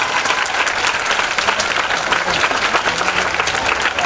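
An audience applauds a teacher at a tribute event, with sustained, dense clapping that stays loud and even throughout.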